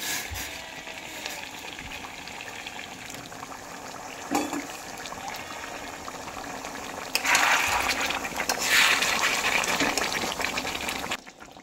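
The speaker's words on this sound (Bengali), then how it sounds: "এখানে আমি একটু পরিমাণ মতন গরম জল দেব।" Hot water poured into a pan of sizzling mutton curry, a steady fry hiss that swells into louder bubbling and splashing partway through, close by, with no voices.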